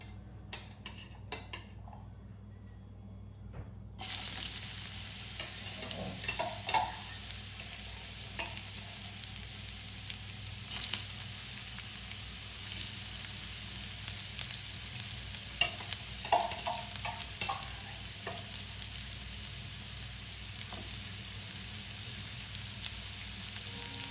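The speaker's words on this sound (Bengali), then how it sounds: "এবার আমি প্রথমে এর মধ্যে বিটটা ছেড়ে দিচ্ছি।" Beetroot dropped into hot oil in a pan: after a few quiet seconds a sudden steady frying hiss starts and continues for the rest of the clip, with occasional light ticks and clinks of a utensil, close and without voices.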